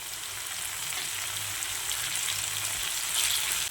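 Curry leaves fry in a pan with green chillies and onion, producing a steady, close hiss of sizzling oil that swells slightly near the end, with no talk.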